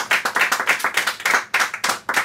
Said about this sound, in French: ouais, faut applaudir parce que si on veut qu'ils reviennent.